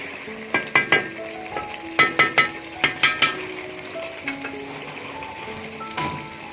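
Keema and lawab curry fry in a pan with a constant sizzle, broken by a run of sharp clinks and knocks from stirring, fairly close and loud.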